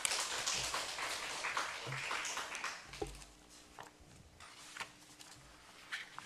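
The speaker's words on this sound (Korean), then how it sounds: "자 하나님께 영광의 박수 돌리겠습니다." A Sunday afternoon church congregation claps in praise, a fairly faint scattered patter of hands that thins out midway, with a few sharper isolated claps and light noise around it.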